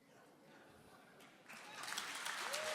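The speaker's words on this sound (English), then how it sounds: "Let's hold the applause." A congressional district debate audience breaks into faint, distant applause that swells partway through, quiet and diffuse beneath the room noise.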